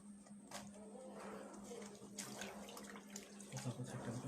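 Water running from a tap while a tie-dyed dress is washed by hand, a steady close rush with soft splashing and squishing of wet fabric, a faint voice briefly in the background.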